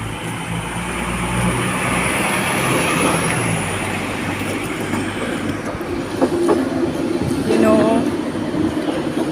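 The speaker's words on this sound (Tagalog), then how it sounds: "yung sinasabi kong tram na para siyang bus" A small tram runs along city rails close by, giving a loud steady rumble with a high wheel squeal and clattering bursts near the end, while a voice talks faintly underneath.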